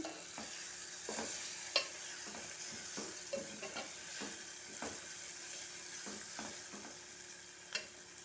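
Aloo tomato curry frying in oil in a pan, a steady close sizzle with repeated scraping stir strokes at an uneven rhythm and a couple of sharper clinks against the pan, no voices.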